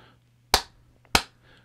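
Two sharp, dry hand claps about half a second apart, close and loud in a quiet room, each decaying quickly.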